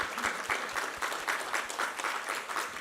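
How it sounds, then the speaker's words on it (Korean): A church congregation at Sunday worship claps in praise, a loud, even, rhythmic applause with crisp beats landing roughly four times a second throughout. "우리 하나님께 감사와 영광의 박수 올려드리겠습니다"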